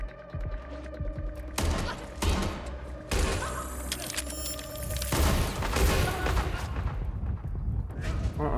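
Enemy gunfire aimed at the player in Watch Dogs: Legion arrives as heavy, close bursts and booming shots layered over dense action noise, with a brief lull before the shooting resumes.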